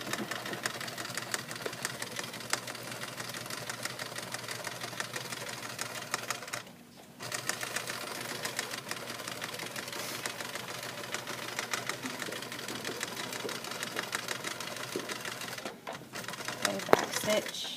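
A sewing machine stitching fabric pillow squares together runs in a steady rapid mechanical patter, pausing briefly twice, with a person talking over it.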